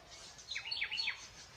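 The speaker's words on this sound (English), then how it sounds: "This bird behind me must have realized I'm about to record." A bird calls from just behind, a brief run of bright chirping notes lasting under a second, fairly faint over quiet outdoor background.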